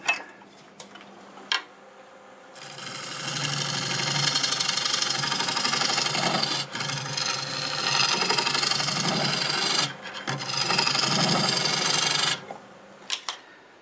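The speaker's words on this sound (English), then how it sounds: "I'll just hold the piece and sand it like that" Sandpaper is held against a spinning wood-turned piece on a lathe, a sustained close rasping hiss over the motor's whir that starts after a few seconds, briefly dips, then stops near the end.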